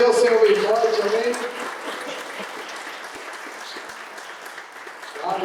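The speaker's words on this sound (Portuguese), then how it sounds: "Vamos aplaudir ao Senhor bem forte" A church conference congregation breaks into loud, sustained clapping after a voice, and the applause fades to a lighter patter before swelling again at the end.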